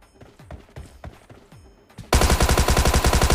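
A Thompson submachine gun fires in a video game, a sudden loud sustained burst of rapid automatic shots that cuts in after a quieter stretch of scattered lighter taps and clicks.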